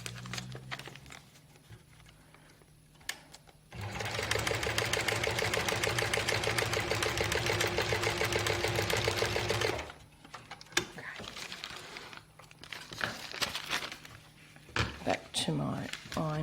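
A sewing machine stitches foundation paper-pieced fabric in a steady whirring burst of about six seconds, close and loud, with quieter handling and light rustling of fabric before and after.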